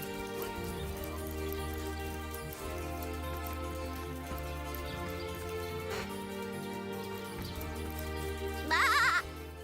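Sheep bleat in the fantasy role-playing game Divinity: Original Sin, a short wavering bleat near the end rising over a soft, steady bed of game music and ambience.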